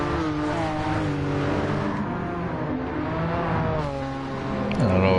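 Car engines revving in Gran Turismo 7, a steady sustained drone with harmonic whine that rises and falls through gear changes, loud and continuous with a sharp upward rev near the end.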